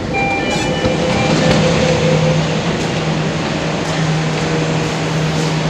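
An LRT train pulling into Istora Mandiri station, with a loud steady rumble and whir of the carriage, a few faint tonal whines and light rattles running continuously.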